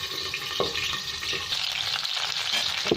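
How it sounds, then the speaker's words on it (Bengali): Cauliflower pieces fry in a pan of oil with a steady close sizzle, soft crackles and a few scraping stirs, alone without talk. "এখানে আমার ফুলকপিগুলো খুব সুন্দর ভাজা হয়েছে"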